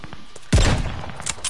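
A single heavy sniper rifle shot in Call of Duty Vanguard Zombies booms loudly with a deep low thump and a rolling tail, followed by quieter game noise.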